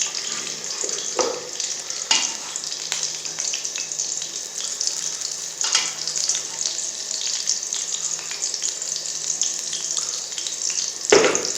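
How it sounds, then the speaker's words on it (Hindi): Extra ghee heats in a pan with roasted almonds for besan halwa, crackling and hissing steadily up close, with a few sharp clinks of a utensil against the pan. "अब डालेंगे इसमें अपना और ज़्यादा घी।"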